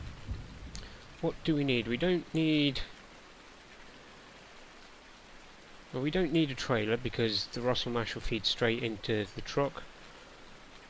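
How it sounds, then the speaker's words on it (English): Steady rain patters in the background on a farm, a soft continuous hiss that carries on under someone talking in two bursts and through the quiet gap between them. "We can't do any harvesting even if the crop was ready because we've got bloody rain"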